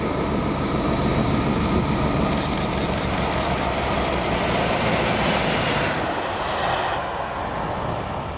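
Rail vacuum train 6X35, Millerhill to Doncaster, passes at Inverness with a loud continuous rumble and wheel-rail roar, a rhythmic clatter of wagons over joints in the middle, then easing slightly near the end.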